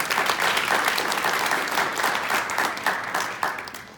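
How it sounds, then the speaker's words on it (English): At a school board meeting, the audience gives a short round of dense, even applause that fades slightly toward the end. "we'll give him a round of applause"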